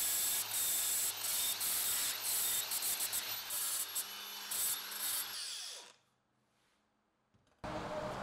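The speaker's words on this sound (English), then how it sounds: "mostly grinding the weld smooth in some of the more visible areas" An angle grinder with a flap disc smooths steel welds on a desk frame, a loud, steady abrasive roar with a high whine that spins down into near silence before starting up again.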